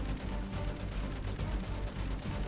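The Pack-a-Punched Jawbreaker shotgun fires repeatedly in MW3 Zombies, loud close booming blasts in quick succession over a dense, continuous barrage of gunfire, with no talk.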